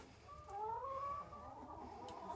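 Chickens near a husky's fenced-off area cluck in a few drawn-out, wavering calls rising and falling over steady outdoor background noise, with no talking.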